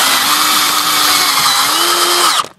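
Power drill driving screws into a pool fence gate frame while fitting a magnalatch self-closing latch, one loud sustained whine whose pitch dips briefly midway before rising again, then cutting off abruptly, with no talk.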